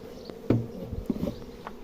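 Honey bees buzz in brief, close passes at a twelve-frame Ukrainian hive, a few separate drones rising and fading over a low background hum.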